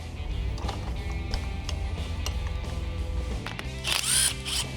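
A power tool whirs steadily up close while a transmission valve body is taken out of a drag strip hearse build, with a higher whine near the end.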